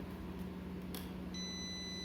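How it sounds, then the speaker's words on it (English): An RFID registration device's buzzer gives a brief electronic beep near the middle, then a steady high tone that starts partway through and holds to the end, all quiet over low room hum, with no talk. "the sounds of the buzzer"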